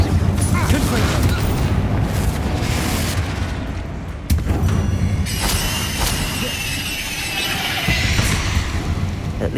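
Confringo fire spell bursting in Hogwarts Legacy, with booming blasts over a continuous rumbling game soundscape and cast effects, several impacts spread across the clip.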